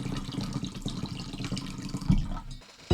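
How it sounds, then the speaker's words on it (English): Lukewarm water runs from a tap into a bowl, a soft continuous splashing stream close by that swells briefly near the end and then cuts off. "I'm going to just warm up this bowl with some lukewarm water"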